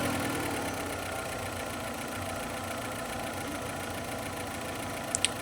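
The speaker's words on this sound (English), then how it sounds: "The engine is a little noisier than you would expect." A 1995 Volkswagen Polo Harlekin engine idles steadily just after startup, recorded up close in the engine bay, with a continuous even hum and a faint mechanical clatter and no talking.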